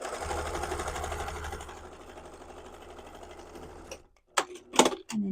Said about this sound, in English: top stitch across the top edge at 1/2 of an inch seam allowance